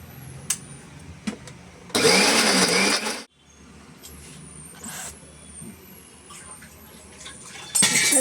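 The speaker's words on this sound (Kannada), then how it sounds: "ಸ್ವಲ್ಪ ನೀರು ಸೇರಿಸ್ಕೊಂಡು ತರಿಯಾಗಿ ರುಬ್ಕೊಳ್ಳಿ." A mixer grinder coarsely grinding a Mangalore-style chutney with a little water runs in a loud whirring burst of about a second, then quieter clicks and rattles follow before a second short burst at the end.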